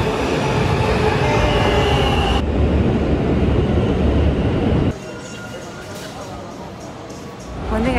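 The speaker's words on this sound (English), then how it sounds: "I'm at the train. It's my subway stop." Subway train at a station stop rumbles loudly with rail noise and wheel clatter, then the sound drops and settles into a quieter hum before rising again at the end.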